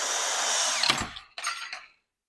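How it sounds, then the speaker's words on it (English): A high-pitched electric drill driving screws into wood whirs steadily and close, winds down, then spins up again in a shorter burst before stopping. "I'm only using a drill"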